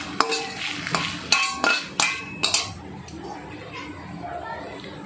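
Dry red chillies stirred in a dry wok with a metal spatula, sharp clinks and scrapes arriving in an irregular burst of about eight strikes, then a quieter stretch with faint background noise.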